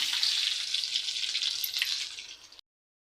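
Curry leaves dropped into hot oil with mustard seeds, crackling in a loud bright sizzle that gradually fades, then the sound cuts to silence.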